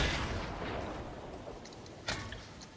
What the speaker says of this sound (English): Oh, we're chucking grenades, are we?